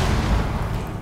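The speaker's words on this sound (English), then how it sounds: "Frag grenade out." A frag grenade blast in Rainbow Six Siege, a dense low rumbling boom that fills the whole second at steady loudness without any talk.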